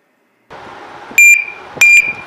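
A smart door lock arming its alarm: two short, loud electronic beeps about half a second apart over a low steady hum, each a bright piercing tone.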